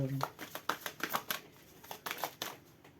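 A deck of oracle cards is shuffled close by in a quick series of crisp riffles and slaps during a Capricorn tarot reading, with a voice speaking over it.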